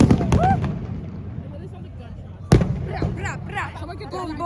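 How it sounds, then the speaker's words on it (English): Fireworks burst at an outdoor Stampede celebration, a sharp loud crack standing out amid crowd noise with a few fainter pops, while people talk and shout nearby. "Guys, the fireworks."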